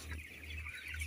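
Broiler chickens, hens and roosters together, cluck softly inside a closed-house poultry barn, a short murmur of overlapping calls over a steady low ventilation hum.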